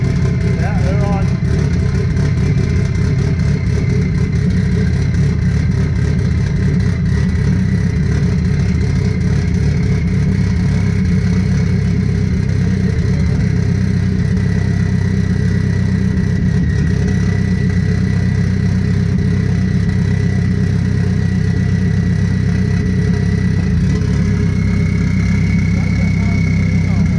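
A Dodge SRT-4 Neon engine runs steadily close by, a constant loud idle with a deep drone that holds through the whole stretch, with people talking over it.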